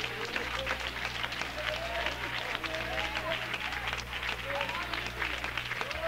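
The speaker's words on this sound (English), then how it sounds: "Some of you are just clapping." Congregation clapping during worship at a Pentecostal church service, a dense, continuous patter with a low steady hum beneath and faint voices and calls mixed through the crowd.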